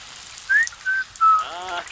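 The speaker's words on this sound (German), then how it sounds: "Und sie gießt erstmal vor sich hin. Und summt." A Sim in the video game The Sims 4 hums while watering plants, three short bright melodic tones in a row, light and clear, with a soft patter of water underneath.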